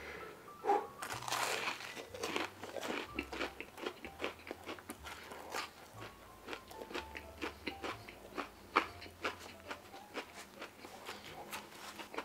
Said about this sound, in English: Did you guys hear that crunch?